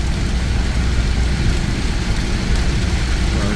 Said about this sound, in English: Getting pretty wild. A lot of rain, low fog moving in,